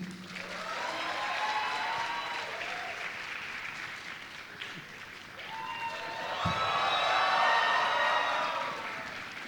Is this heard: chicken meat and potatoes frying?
no